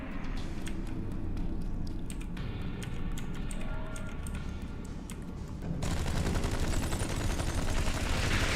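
Rapid weapon fire from a small gun in the Star Trek Online game, dense repeated shots with crisp clicking transients, continuing as a louder steady wash of effects near the end.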